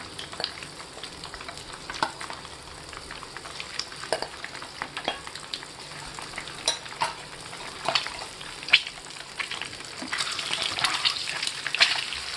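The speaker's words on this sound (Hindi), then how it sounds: "अब इसमें हम हाई फ्लेम पर इन अंडों को थोड़ा गोल्डन कलर आने तक फ्राई कर लेंगे।" Eggs frying in oil over a high flame, a steady close sizzle with scattered crackles and stirring clinks throughout, building slightly louder toward the end.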